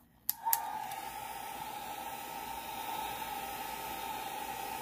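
A Revlon hair dryer clicks on and runs steadily at close range, a constant airy whoosh with a tonal whine, used for drying alcohol ink.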